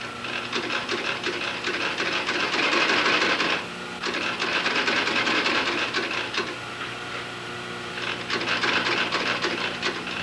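A sewing machine stitches shoe vamps and counter covers in fast, steady mechanical runs, pausing briefly between bursts, with no talking.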